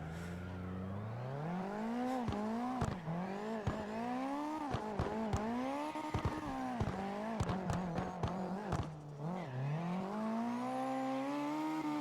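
A Nissan S15 drifts in the racing game CarX Drift Racing, its engine droning and rising in pitch as it revs with a manual clutch, with repeated clutch-kick bursts and tire squeal, loud and continuous.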